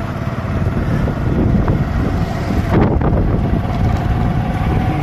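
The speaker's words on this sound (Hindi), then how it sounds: "रास्ते में ऐसी आंधी आ गई है, मट्टी और मट्टी है" Strong, gusting wind roars across the microphone of a moving motorbike in a dust storm, a loud, continuous rumbling buffet with no speech.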